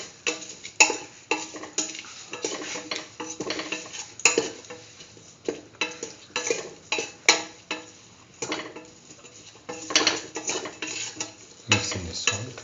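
A utensil scrapes and clinks repeatedly against a pan as salt is stirred into a cumin tomato stew. The strokes come in an uneven rhythm and are close and fairly quiet, with a faint sizzle and no talking.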